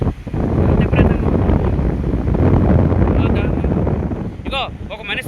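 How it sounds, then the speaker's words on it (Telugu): Strong wind gusts roar steadily through trees, loud and close on the microphone, with voices talking over it and a few brief higher-pitched calls near the end. "ఇది కూడా గాలి బాగా విపరీతంగా, చూడండి చెట్లు చూడండి, చాలా విపరీతంగా వస్తుంది."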